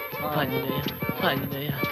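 A horse arrives with rhythmic clip-clop hoofbeats and a loud whinnying neigh in a Tamil comedy scene, the hooves steady throughout and the neighs rising over them.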